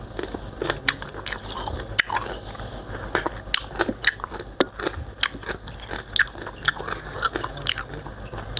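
Crisp, loud bites and crunchy chewing of unripe green mango dipped in sweet fermented fish sauce, heard close up as a steady run of sharp crunches with no talk.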